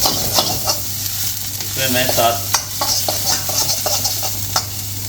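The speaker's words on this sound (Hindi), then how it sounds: "2 टीस्पून ऑफ गार्लिक को मैं सौटे कर लूँगा।" Two teaspoons of garlic sauté in a pan for a spicy vegetarian stir-fry rice: a steady close sizzle with stirring scrapes and light clinks, under a brief word of speech.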